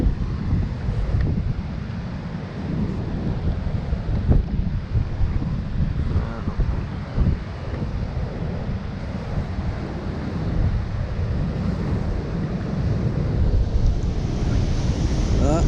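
Strong wind and crashing sea waves at the shore during Storm Gloria in January 2020, a loud, continuous roar of surf with heavy wind buffeting the microphone throughout, no voices.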